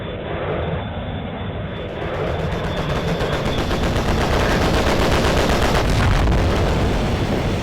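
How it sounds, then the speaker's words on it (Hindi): Loud, dense rumble of explosions and rapid gunfire as a bomb destroys a group of tanks in a fighter plane video game, the roar of the aircraft sustained throughout with no voices. "तो यहाँ पे एक बॉम्ब का यूज कर दिए हैं।"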